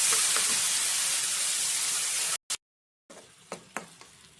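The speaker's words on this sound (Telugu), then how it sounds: "ఇప్పుడు ఇదే ఆయిల్లోకి మనం ఇందాక పేస్ట్ చేసి పెట్టుకున్నాం కదా, ఆనియన్ టమాటో పేస్ట్ వేసుకుని ఫ్రై చేసుకోవాలి" An onion and tomato paste fries in hot oil for a brinjal curry, giving a loud, continuous close sizzle that cuts out abruptly, followed by quieter frying with a few stirring scrapes and no talk.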